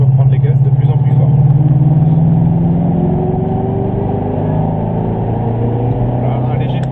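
Ford Mustang engine accelerating on a cone course, a loud close mid-pitched drone rising and holding as the throttle opens, steady throughout.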